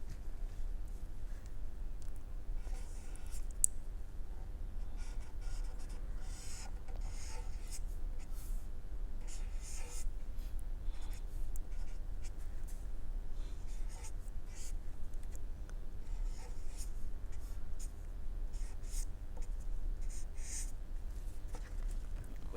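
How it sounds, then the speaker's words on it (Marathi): A pen writes a name in Urdu script, producing a faint, continuous scratching and scribbling across the whole stretch with no talk, set against a steady low room hum. "वैष्णवीच लिहितो की वैष्णवी कानविंदे कम्प्लीट काही लिहू?"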